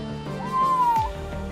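A stray kitten trapped inside a water pipe in a basement in Spain gives a single drawn-out, rising-then-falling meow. It sounds muffled and somewhat distant over low background rumble, with a couple of dull knocks nearby.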